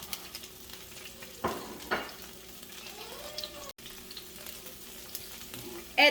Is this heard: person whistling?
no